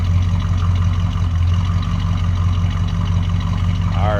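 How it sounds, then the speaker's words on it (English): A 1964 Chevrolet Chevelle Malibu convertible with a 283 V8 idles at the exhaust, a steady, deep, throaty rumble heard up close with no talking. "Nice throaty sound coming out of that 283."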